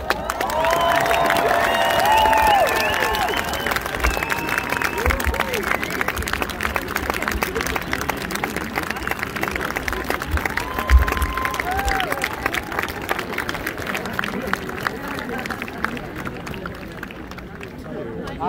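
Large concert crowd in Berlin applauding and cheering for a singer, a dense continuous wash of clapping and shouts at steady volume, tapering slightly toward the end, with a voice speaking over it at first.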